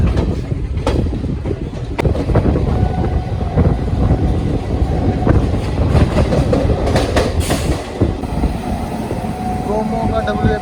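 Train 12326 Nangal Dam–Kolkata Gurumukhi Superfast Express running along the line, with steady loud rumble and rhythmic clickety-clack of wagons over rail joints throughout, occasional clanks, and faint voices in the background.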